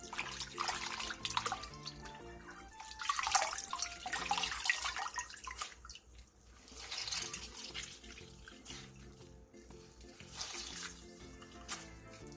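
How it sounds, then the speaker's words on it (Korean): Blanched napa cabbage is rinsed in cold water under a running tap, with splashing, swishing and dripping in a sink at low to moderate level and no speech. "데친 얼갈이 배추는 바로 찬물에 헹군 뒤 물기를 꼭 짜주세요."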